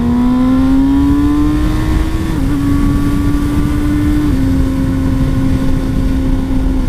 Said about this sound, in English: to do on a motorcycle is accelerate on the freeway, especially when there's nobody in front of me.